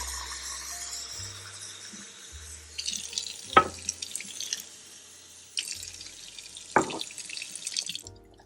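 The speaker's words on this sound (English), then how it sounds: "Fill it with water." Water runs from a tap into a container holding cherry juice, a steady close splashing with a couple of sharp knocks and clinks along the way.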